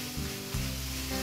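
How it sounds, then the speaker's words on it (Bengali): Banana stem frying with shrimp in a pan, a steady close sizzle with a brief stirring shift midway, no voices. "দেখতে পাচ্ছেন কলার থুর ভাজিটা প্রায় হয়ে এসেছে।"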